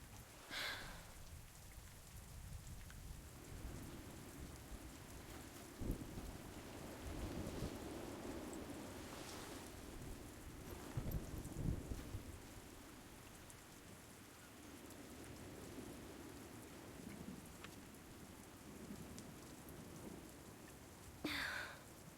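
Rain and thunder from The Walking Dead Season 2 video game form a continuous hiss of rainfall over low rolling rumbles, with a few louder crackling gusts and no speech.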